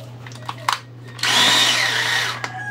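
An electric drill runs during installation work on a Daikin air conditioner. It gives one loud, steady whirring burst of about a second after a few light knocks and clicks.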